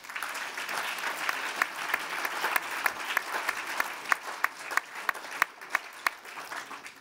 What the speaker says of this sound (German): bitte stimmen Sie mit ein in den Applaus für unsere Podiumsteilnehmer